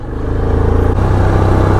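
A 2020 Yamaha Kodiak 450 EPS SE ATV engine runs steadily while riding, a loud, close rumbling drone with a slight shift in pitch partway through as engine braking slows the machine.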